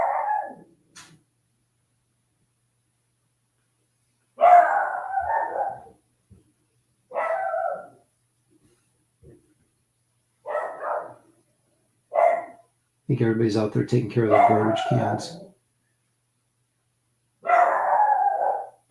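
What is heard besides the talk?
dog barking and howling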